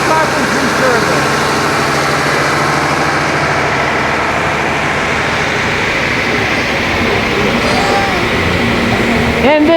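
A Farmall tractor engine idles steadily at a small-town parade, a continuous loud low rumble with a busy outdoor crowd in the background.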